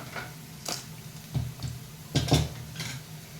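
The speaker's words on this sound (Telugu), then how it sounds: "ఈ బాండీ షిఫ్ట్ చేస్తున్నాను" A metal kadai shifted on a home stove while bitter gourd fry cooks, giving a few scattered scrapes and light clanks over a low steady hum, near and moderately quiet.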